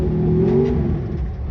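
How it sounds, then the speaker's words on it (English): A car engine with a Mendeola/Weddle S4S dogbox transmission drones steadily and close with a slight rise in pitch as it is downshifted into first gear on a steep drop. "We got a steep drop right here, so we're gonna drop it down into first."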